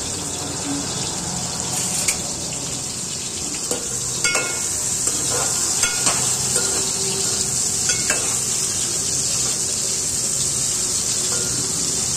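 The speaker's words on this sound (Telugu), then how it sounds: "ఈ ఆయిల్లో మునగకాయలు వేసి ఉల్లిపాయలు వేసుకొని దూరగా వేయించుకోవాలి" Drumsticks (moringa pods) and onions frying in hot oil for a lentil-based stew, a steady, close sizzle throughout with occasional louder stirring clinks and scrapes against the pot, no talking.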